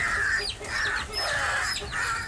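A rooster attacking a crow, heard as loud, repeated harsh squawks and clucking cries in bursts of about half a second each, with scuffling and flapping noise underneath, close and continuous.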